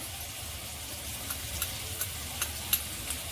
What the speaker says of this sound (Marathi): परतून घेऊ टमाटर छान असा मऊ पडला पाहिजे